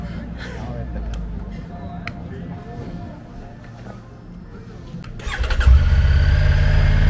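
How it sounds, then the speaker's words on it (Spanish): A Triumph Tiger 900 Rally Pro three-cylinder motorcycle idles quietly under a voice, then the engine starts with a sudden rise into a loud, steady, rumbling run close by. "Así es como suena la Triumph Tiger 900 Rally Pro."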